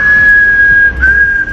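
A person whistles one steady, sustained note for about a second and a half, briefly wavering near the end, close and clear over a low background hum.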